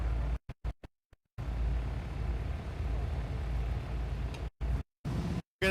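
Drag racing at Thunder Valley in Noble, Oklahoma, with a Nova and a Chevrolet Silverado C1500 running side by side: a steady, moderately distant engine roar that cuts in and out in several abrupt gaps.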